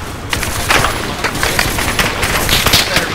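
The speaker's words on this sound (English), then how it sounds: "Dude, this bullet is flying literally right past me right now." Rapid bursts of automatic gunfire from the video game DayZ, loud and close, with bullets whizzing past in a dense, crackling fusillade that runs throughout.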